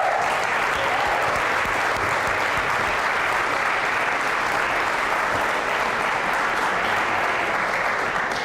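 Sustained audience applause fills the room after a student business pitch competition announces a first-place team, steady and dense from start to finish with no talk over it.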